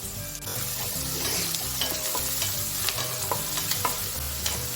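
Whole spices and turmeric crackle in hot oil as the base for a tomato chutney, a loud, continuous sizzle close up with steady stirring scrapes and a few sharp clicks.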